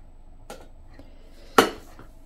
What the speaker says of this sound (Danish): Mit trangia-sæt det består af 2 gryder, aluminiumsgryder og så en kedel.